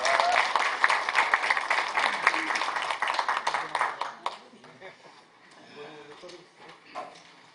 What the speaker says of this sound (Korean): 힘찬 박수로 청해 듣겠습니다.